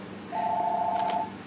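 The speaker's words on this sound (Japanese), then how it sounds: "ちょっと電話鳴っちゃった" A telephone rings in a home kitchen during cooking: a single steady electronic tone, moderately loud and close, lasting about a second, with no talk over it.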